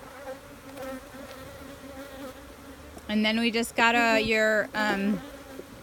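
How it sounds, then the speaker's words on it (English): Honeybees buzzing around a hive while bees are added, a soft steady hum that swells into loud, close, wavering buzzing bursts near the end, with brief low talk early on. "let's throw some more bees in here"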